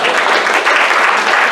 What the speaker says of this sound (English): Give God a clap offering in this place.